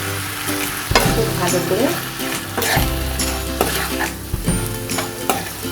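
Salted chicken kebab mixture fries in a pan, giving a constant loud sizzle broken by repeated metal spoon scrapes and knocks as it is stirred. A voice speaks briefly over it.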